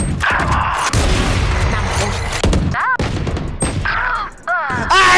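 Gunfire in a shooter video game: rapid bursts of shots, with booms mixed in, fill the whole stretch at close range and loud. A player talks excitedly over the shooting.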